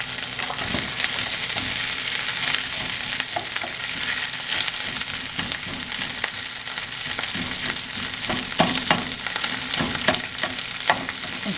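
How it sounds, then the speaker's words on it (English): Rice goes into a pan of caramelized onions and sizzles loudly, a close, continuous frying hiss with scattered stirring scrapes and no talking. "I'm caramelizing the onions a little bit. They look burnt, but they're not burnt. That's just how I like it. I'm going to put the rice in here"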